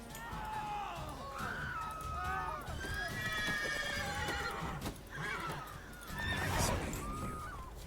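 Horses in The Witcher 3 give repeated shrill neighs and whinnies over busy hoof clatter and game sounds, loud and close, with talk mixed in.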